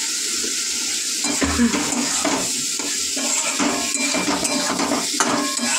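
Potato pieces go into a hot pan and fry with a steady sizzle, while a utensil scrapes and stirs against the metal in irregular bursts, close and fairly loud throughout.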